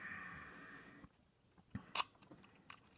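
A Leica IIIf rangefinder camera shutter, said to have faults, fires at 1/200 second: a sharp, brief mechanical click after a quiet pause, followed by a few softer clicks and handling noises, close and isolated.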